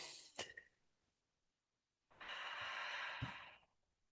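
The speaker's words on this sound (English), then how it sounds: "Take a deep breath in." A group of people draws a long deep breath in together: a drawn-out broadband inhalation lasting about a second and a half, loud and close, preceded by a brief sniff and a short pause of near silence.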